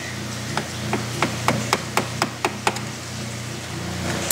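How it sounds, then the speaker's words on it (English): A punch taps a C-clip onto a Honda Odyssey door hinge in about nine evenly spaced sharp metallic taps, close and fairly crisp over a low background hum. "just use a punch or a screwdriver and just kind of tap it into place"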